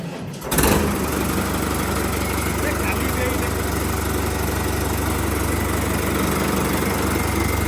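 Tractor 5630 engine with a replaced wide-mouth silencer running after a start, a dense steady rumbling drone that stays loud and continuous throughout, close by.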